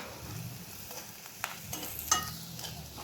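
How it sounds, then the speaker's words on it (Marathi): Cumin powder and red chili sautéed in a pan over low heat for a Kolhapur-style capsicum zunka, a soft steady sizzle with a few scraping stirs and clicks against the pan, close and without voices. "आता हे छान परतून घेऊया."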